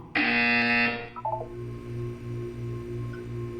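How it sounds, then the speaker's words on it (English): A loud, steady electronic buzzer from the video game Portal 2 sounds for under a second, followed by a few short, quieter beeps over a low background hum. "When you hear the buzzer, look down at the floor."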